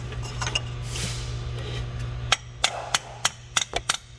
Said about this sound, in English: Should I hit it with the air hammer?